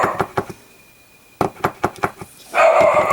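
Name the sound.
dog barking at the door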